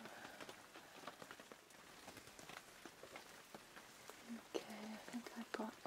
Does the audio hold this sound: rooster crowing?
no